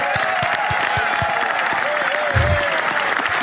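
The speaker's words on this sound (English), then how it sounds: "Mark Carney came back to the House of Commons and received a standing ovation" Sustained applause in the House of Commons greets a standing ovation, with a room full of clapping hands mixed with scattered murmurs and a few voices.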